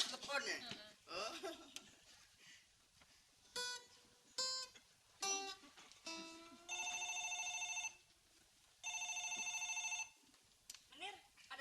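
A telephone rings indoors with two long electronic ringtone bursts, surrounded by lively talking and laughter.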